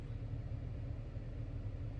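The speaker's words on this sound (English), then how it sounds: "I feel like y'all can hear the car" A steady low engine rumble from a car idling, with the recording made inside the car, hums continuously with no voices over the constant drone.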